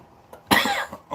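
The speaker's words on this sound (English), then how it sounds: "Oh, cough." A single loud, close cough bursts out after a brief quiet, followed by a softer throaty trailing sound.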